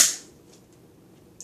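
Nerf Zombie Strike blaster firing a single dart: one sharp, snappy pop at the start that fades quickly, followed by near quiet and a faint click.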